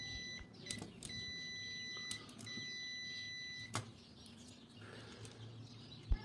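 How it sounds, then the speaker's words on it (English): Steady electronic beep tones sound in a few sustained bursts with short gaps, over a low background hum and a couple of faint clicks. "when we don't press the handle, it beeps"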